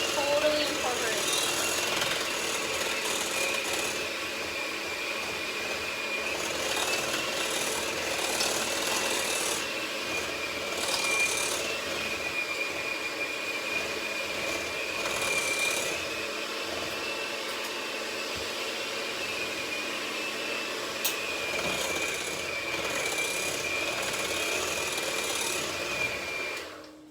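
Cookie dough with eggs being mixed steadily and thoroughly, a continuous rough scraping, rubbing churn that stays close and fairly loud throughout, with occasional talk over it.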